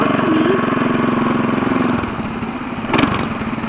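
A mini bike's small engine revs with a steady, loud putter that dips slightly and then picks up again in a brief throttle burst, heard up close.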